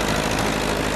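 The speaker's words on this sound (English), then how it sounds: "Dale Pearson's tractor, 450 diesel" A 1957 International 450 diesel tractor idles outdoors at an antique tractor and plow gathering, a steady, dense low engine rumble heard up close and alone.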